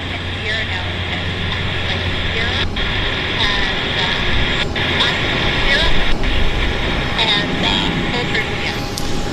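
An aircraft taxiing on the ramp at Vancouver airport gives a steady loud jet engine whine and rumble that holds throughout, with airport ambient noise and voices in the background.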